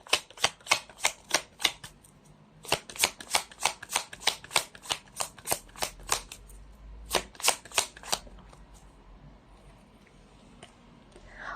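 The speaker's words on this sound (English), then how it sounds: "let's try to pull up another set of cards" Tarot cards shuffled in rapid riffling bursts, a quick run of crisp snaps, a pause, then another run and a shorter third flurry, close and clear with no talking.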